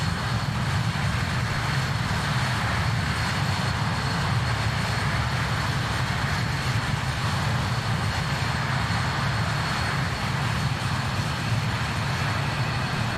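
BAe 146 airliner engines in Microsoft Flight Simulator 2020, a steady, loud, continuous jet roar with a low rumble that holds unchanged throughout, no voices.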